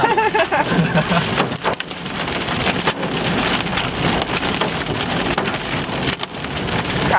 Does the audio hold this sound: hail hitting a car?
yes